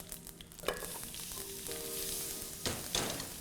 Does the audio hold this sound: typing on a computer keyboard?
no